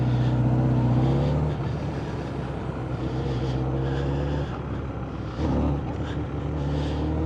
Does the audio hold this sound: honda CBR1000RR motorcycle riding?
yes